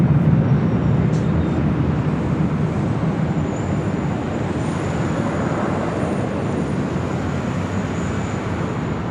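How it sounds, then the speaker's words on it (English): A Delta Boeing 737-900ER rolls down runway 24 left at LAX, a steady, loud broadband jet roar holding throughout with a faint high whine on top. "as this Delta 737-900ER now rolls down 24 left"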